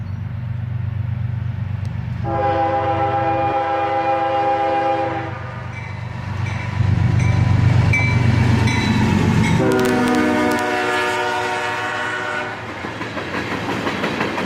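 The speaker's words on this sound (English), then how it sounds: "A northbound CSX tanker train with only a single locomotive." A northbound CSX freight train of tank cars, hauled by a single locomotive with two covered hoppers as buffer cars, rumbles steadily by while its horn sounds two long blasts, one early and one later, close and loud.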